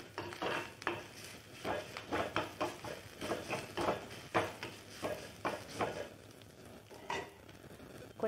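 Drumstick leaves being sautéed with roasted powdered rock salt in an iron pan, giving a steady run of scraping, clattering stirring strokes with a soft sizzle underneath, close but fairly quiet and without talk.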